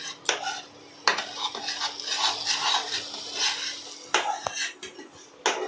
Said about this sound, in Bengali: মশলাটাকে ভালোভাবে কষাবো আমার মশলাটা